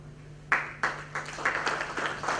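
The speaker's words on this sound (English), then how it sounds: "Round of applause for TRC Murthy" An audience at a banking technology summit panel gives a short round of applause. It comes as several distinct bursts of clapping that build into a light patter and stay moderate and steady to the end.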